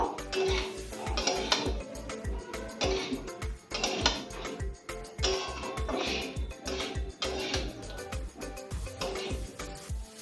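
Soybean chunks stirred with spices and potatoes in a pot, a quick regular rhythm of metal spoon knocks and scrapes against the pot with a soft sizzle underneath, close and moderately loud.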